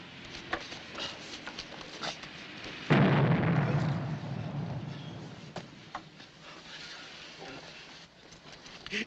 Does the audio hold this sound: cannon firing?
yes